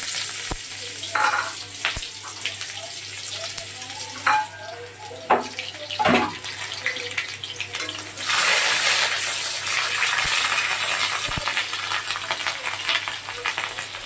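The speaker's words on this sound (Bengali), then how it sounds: "অল্প একটু পেঁয়াজ, গোটা লঙ্কা, এলাচ, দারচিনি নিয়ে নিয়েছি। এটা ফোড়নে দিয়ে দিচ্ছি।" Onion, whole chili, cardamom and cinnamon frying in hot oil, a steady close sizzle with occasional small pops and clinks throughout.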